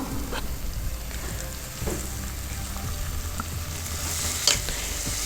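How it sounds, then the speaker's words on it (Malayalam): Curry leaves dropped into hot oil in a pan for a Kerala-style chicken curry, producing a crackling sizzle with a few sharp pops and stirring scrapes, close and without talk. "ഞാനിപ്പോൾ ഇതിലേക്ക് കുറച്ച് വേപ്പില ഇട്ട് കൊടുക്കുന്നുണ്ട്"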